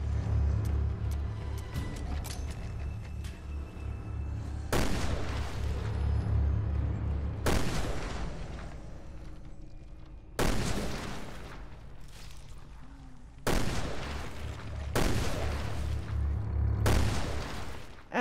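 Heavy magnum shots in Resident Evil Revelations 2, five or six loud booming blasts spaced a few seconds apart, each followed by a long decaying tail over a low rumbling game background.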